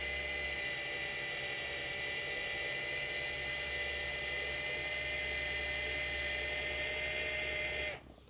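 A drill spins a brand-new eraser wheel used for removing Tesla Model 3 Highland emblems, whining steadily at high pitch for about eight seconds before it cuts off; close and continuous with no talking.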